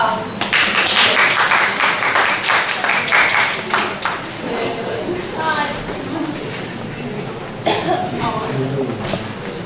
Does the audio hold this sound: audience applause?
yes